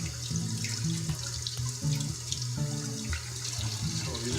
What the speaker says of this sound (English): Alright, so I'm just going to run into the sink here.